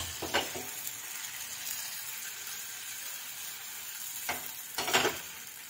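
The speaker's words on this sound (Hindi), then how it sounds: "और इसमें डालेंगे हम ये ऑयल, तेल गरम हो गया" Vegetable paratha batter fries in hot oil with a steady soft sizzle, broken by a few scraping stirs of a utensil near the start and end.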